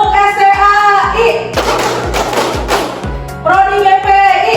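A class performs the rhythmic 'tepuk STAI' clap chant, sharp unison hand claps in a patterned beat mixed with chanted voices, loud and close, with a flurry of faster clapping in the middle.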